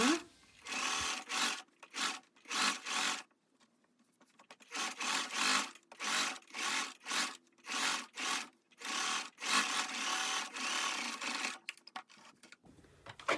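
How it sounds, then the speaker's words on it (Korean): A sewing machine top-stitching along the inner seam of a hooded dress runs in repeated bursts of rapid needle chatter, each lasting about a second with short pauses between, close and clear. "재봉선 안쪽에서 탁 스티치를 합니다."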